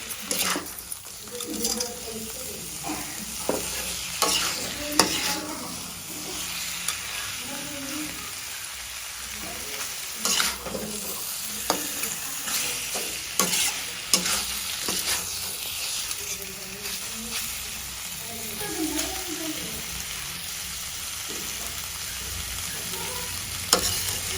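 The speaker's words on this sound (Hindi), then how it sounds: "अब यहाँ पर हमने सब्जी छौंक दी है पनीर की।" Paneer vegetable curry sizzling and frying in a pan as it is tempered, with steady crackling, intermittent sharp stirring scrapes and clinks, and someone talking over the cooking throughout.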